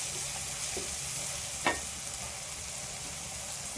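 Fenugreek kuzhambu ingredients sizzle steadily as they sauté with salt in a pan, with a soft continuous frying hiss and a single brief scrape of a stirring spoon partway through.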